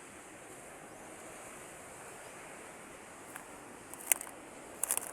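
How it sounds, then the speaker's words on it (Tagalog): A steady wash of surf and wind rushes throughout, with a few sharper splashes and crackles toward the end. "malakas yung alon ngayon"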